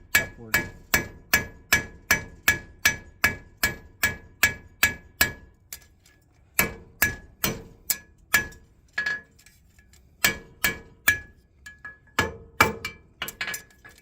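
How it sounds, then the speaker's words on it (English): A farrier hammers a horseshoe toe bent over the edge of an anvil, ringing metallic blows in fast, even bursts of strikes with short pauses between sets, close and clear with no talking. "I take the toe and put it over the edge of my anvil like that"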